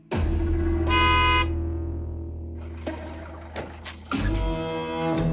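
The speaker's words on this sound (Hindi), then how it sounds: "क्या बे, ये क्या हॉर्न बजा रहा बार बार?" A vehicle horn honks several times in short and sustained blasts, loud and close, over a low rumbling background.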